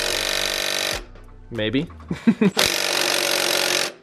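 Impact wrench working on a transmission mount bolt of a twin-turbo project car: two loud sustained bursts of hammering buzz, close by, separated by a pause in which someone briefly speaks.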